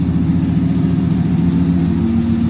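A 2019 or later Ram 1500 with the 5.7 HEMI V8, fitted with BD Diesel exhaust manifolds and a Borla exhaust, idles up close with a loud, steady low rumble.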